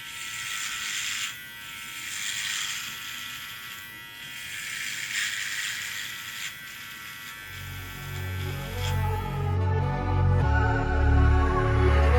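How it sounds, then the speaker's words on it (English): An electric hair trimmer buzzes steadily during a self-haircut, cutting a guideline for a skin fade; the motor tone shifts and grows louder toward the end as the blade presses closer. "place your thumb right underneath the trimmer and go upward and create a guideline going across your head"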